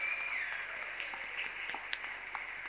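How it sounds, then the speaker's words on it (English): Graduating class applauding their families at an art academy graduation ceremony, a steady distant wash of clapping from a large crowd, fairly faint and even throughout with a few sharper claps. "So now the class of 2024 will applaud you for everything you've done"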